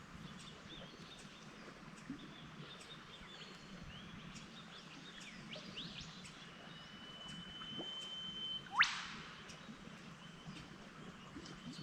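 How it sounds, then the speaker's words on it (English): Birds in the Australian bush call faintly against a steady wash of ambient noise, with scattered chirps and one sharper, louder whistle near the end. "Sit back and listen to the birds."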